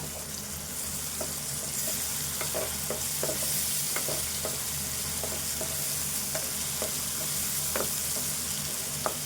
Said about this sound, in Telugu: వేసుకొని ఇది కూడా వేగేదాకా కలుపుకుందాము